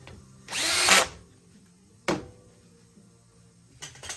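A power drill drives screws into a folding tablesaw infeed support in a workshop: one long, loud whining burst, then a short burst and a brief final burst, with quiet gaps between.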